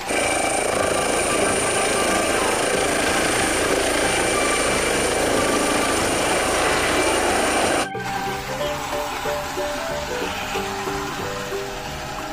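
A loud helicopter roars steadily with dense engine and rotor noise, then abruptly drops to a quieter, thinner drone partway through.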